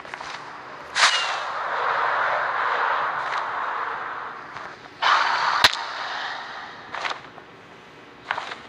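Firework rockets launch in Minecraft, several sharp whooshing bursts at irregular intervals over a continuous hissing background, with no one talking.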